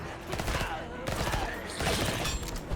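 Rapid automatic Uzi fire from the retro first-person shooter Bloodshed, dense bursts of shots layered with game effects, loud and continuous across the whole stretch.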